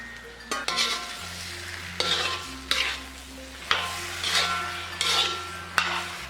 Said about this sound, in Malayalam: ഇനി ഇതിലേക്ക് വാഷ് ചെയ്ത് ഡ്രെയിൻ ചെയ്ത് വെച്ചിരിക്കുന്ന ചിക്കൻ ഇട്ട് നല്ലതുപോലെ ഇതൊന്ന് ഇളക്കി കൊടുക്കാം.